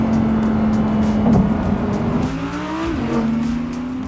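An Audi R8 engine pulls hard through successive gears, a loud, steady rising howl that dips briefly at each shift and climbs again, close and continuous with no talking.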